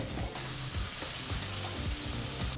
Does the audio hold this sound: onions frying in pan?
yes